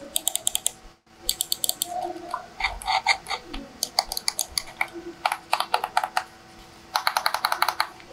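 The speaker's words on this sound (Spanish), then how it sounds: "vamos a escuchar los clics, a ver cómo es." Button clicks from a T-Dagger Recruit 2 computer mouse, a six-button corded model, pressed repeatedly in quick irregular bursts, crisp and close with brief pauses between runs.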